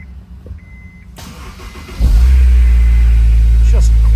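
A stock-sounding Honda S2000 cold-starts close by: a quiet stretch with faint sounds, then a sudden loud cranking catch at about two seconds that settles into a steady, deep idle rumble.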